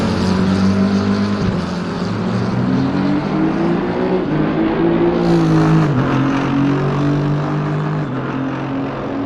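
A McLaren GT3 race car at a Barcelona GT3 championship round roars loudly and close, its engine note rising and falling through gear changes as it drives past.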